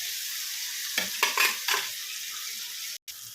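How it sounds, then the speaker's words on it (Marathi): Tomato and onion sautéing in a pan, a soft steady sizzle with a short burst of spatula scraping strokes near the start, then a brief cut in the sound near the end, close, with no one talking. "तर हे छान असं परतून घेणार आहोत थोड्या वेळ"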